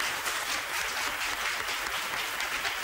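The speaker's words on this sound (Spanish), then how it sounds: "yo creo que se han merecido un aplauso" Studio audience applauding on a Spanish TV game show, a steady dense wash of clapping that fills the whole stretch, loud and close with no voices over it.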